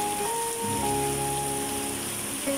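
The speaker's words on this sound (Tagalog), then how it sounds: "Grabe yung ulan." Heavy rain pouring down on a flooded house, a dense steady hiss of drops on surfaces filling the whole clip, with a faint hum beneath.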